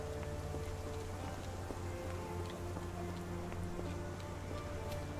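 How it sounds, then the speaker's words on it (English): Rain in the video game Sherlock Holmes: The Awakened, a quiet, steady patter of drops falling on surfaces, with a low hum of ambience beneath. "This dreary rain is making a miserable day even worse."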